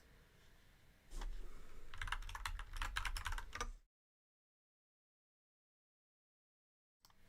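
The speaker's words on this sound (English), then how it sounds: "Me clicking between my screens." Rapid computer mouse and keyboard clicks sound close to the mic for about three seconds during a knitting livestream, a quick burst of sharp clicks over low background noise before cutting to silence.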